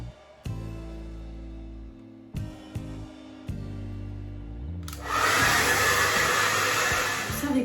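A Babyliss hair dryer, used without its nozzle, switches on partway through and blows with a loud, steady whooshing roar after a stretch of low humming and a few clicks.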